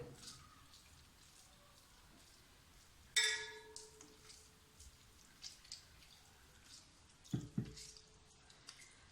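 Water drips and trickles as cheese curds are squeezed by hand for homemade pizza cheese, faint soft splashes and wet squishes in a few small bursts over quiet background.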